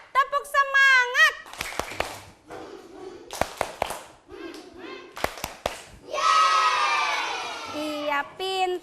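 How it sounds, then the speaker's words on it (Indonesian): Children in an elementary school classroom do a rhythmic chanted 'tepuk semangat' clap routine, short sharp claps in patterned bursts mixed with group chanting and a teacher's voice, ending in a long shouted cheer. "Kita tepuk semangat dulu ya. Tepuk semangat."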